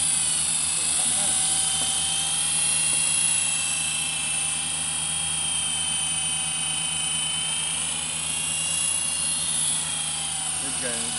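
An MJX F49 radio-controlled helicopter flies nearby with a steady high-pitched electric motor whine and rotor buzz, holding a constant level throughout with slight pitch wavering.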